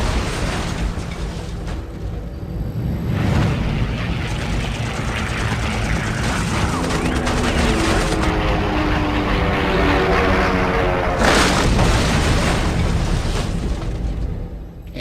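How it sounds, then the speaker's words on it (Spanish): A crashing WWII Focke-Wulf fighter roars in with a loud, dense engine rumble and a heavy booming impact beside a barn, sustained and overwhelming, with no voices. "Se estrelló al lado de un granero."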